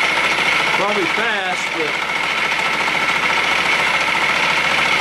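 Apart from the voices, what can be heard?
homemade chamfer cutter running at about 600 RPM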